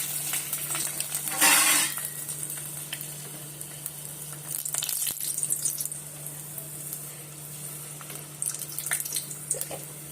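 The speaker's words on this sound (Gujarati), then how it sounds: "ચકરી તળવા બહુ ટાઈમ થઈ ગયો." Chakri snacks fry in hot oil at home, giving a steady crackling sizzle with bursts of louder bubbling, a low constant hum underneath and occasional clatter from the kitchen.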